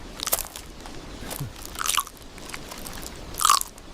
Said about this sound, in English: So good sounds, crunching, right?